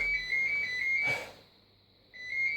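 A phone rings at a home workout session, its thin electronic warble repeating in short pulses, pausing briefly, then starting again, fairly quiet under a faint background hum.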